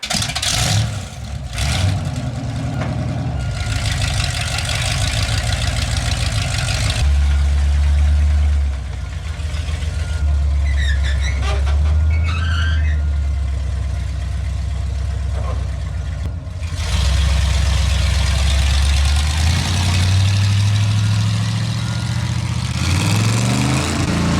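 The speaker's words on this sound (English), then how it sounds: "Big block Chevy, loud, straight cut gears" A monster truck's big-block Chevy V8 with straight-cut gears idles loudly with a deep, lumpy rumble, swelling briefly into revs before settling back, steady and close throughout.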